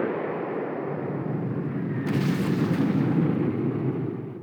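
Artillery fire rumbles in Panzer Corps, a dense, low booming roar that swells midway and then fades, with no speech.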